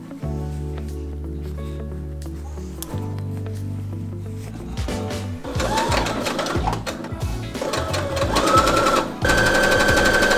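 Sewing machine stitching a waistband onto homemade shorts: bursts of rapid mechanical stitching that start and stop, growing louder and faster toward the end, close by with no talk.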